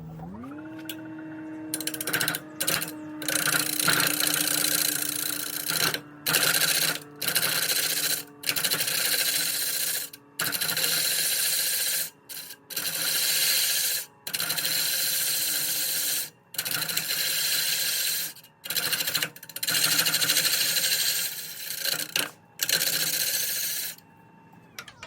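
A wood lathe turns a Brazilian pine natural edge platter at about 466 RPM, a steady motor hum broken by repeated scraping bursts from the tool cutting the spinning wood, with short pauses between cuts.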